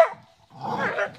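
A single dog bark, short and fairly close, after a brief faint sound at the start.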